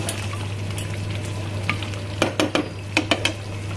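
Goat mutton fries in oil while being stirred, a steady sizzle under a constant low hum, with a quick run of sharp scraping strokes of a utensil against the pan near the end.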